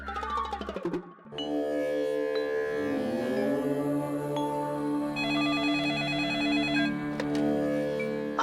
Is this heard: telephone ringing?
yes